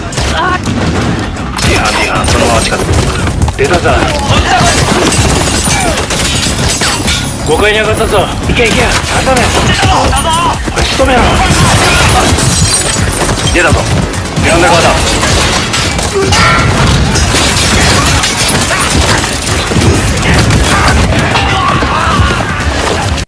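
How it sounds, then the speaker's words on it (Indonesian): A close-range gunfight from the action film The Fable plays loud and dense, with rapid bursts of gunfire, booms and crashes over shouting voices. "Sato bisa menghindari peluru dengan sangat cepat dan terlibat baku tembak pada jarak yang dekat."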